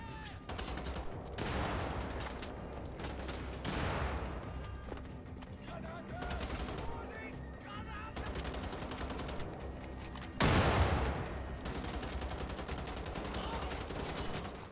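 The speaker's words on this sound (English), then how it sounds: "I missed all those shots." Repeated gunfire from Wolfenstein: The Old Blood, dense bursts of shots and automatic fire running throughout, with a louder burst near the end and game sounds mixed in.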